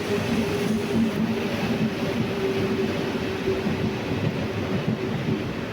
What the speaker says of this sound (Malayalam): എറണാകുളം കായംകുളം എക്സ്പ്രസ് സ്പെഷ്യൽ ട്രെയിനാണ്.